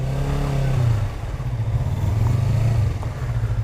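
A Yamaha R25 motorcycle engine idles and rumbles in match-day traffic in Adana, with a steady low drone that swells briefly, dips, then rises again; no talking.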